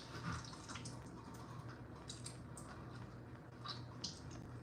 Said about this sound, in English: get as much water as you can off of your tuna fish